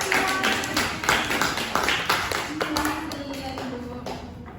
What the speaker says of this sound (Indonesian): tepuk tangan buat teman-teman kita